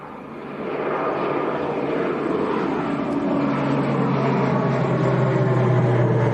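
An Aer Lingus plane bound for Belfast at Leeds Bradford Airport rises into a steady, broad engine roar heard from behind the fence, building over the first second and then holding loud and continuous with a low droning tone.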